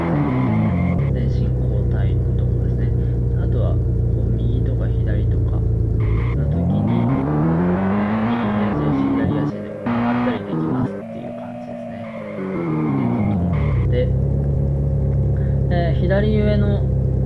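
A car engine from the Unity Standard Assets car demo drones and rises and falls in pitch as the vehicle accelerates, brakes and turns, with a voice talking over it throughout.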